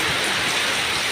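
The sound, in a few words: heavy rain falling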